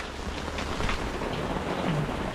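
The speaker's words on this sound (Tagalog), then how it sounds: "bumuhos lang ang ulan" Heavy rain pours down at sea in a dense, steady hiss with a low rumbling undertone, continuous and fairly close, with no voices.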